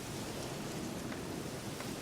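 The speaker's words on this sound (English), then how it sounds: "Looks like rain." Steady rain in The Witcher III: Wild Hunt forms a continuous, even hiss of falling water with a faint low rumble beneath it.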